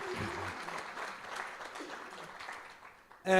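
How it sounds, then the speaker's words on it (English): Audience applause for panel speakers at a governance dialogue event in South Africa, a steady wash of clapping from a room full of people that runs for a few seconds before tapering off. "let's give our speakers a round of applause"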